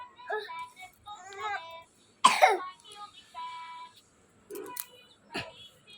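An unwell child gives two sharp coughs and some throat clearing, close and distinct, between stretches of soft voiced sounds.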